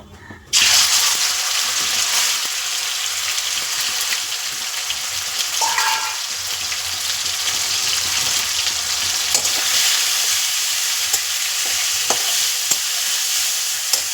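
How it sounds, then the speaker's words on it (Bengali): Marinated chicken fries in hot oil in a pan, a loud continuous sizzle that starts abruptly and carries on with occasional stirring clinks. "ওই তেলের মধ্যে আমি এই যে ম্যারিনেট করা চিকেনটা দিয়ে দেবো"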